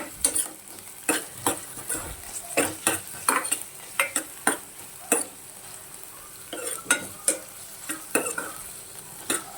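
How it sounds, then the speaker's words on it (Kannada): Onion frying in hot oil for egg rice, a steady sizzle punctuated by repeated sharp clicks and scrapes of a spatula stirring in the pan, close and without talk. "ಈಗ ನಾನು ಮೊದಲಿಗೆ ಈರುಳ್ಳಿ ಹಾಕ್ತಾಯಿದ್ದೀನಿ"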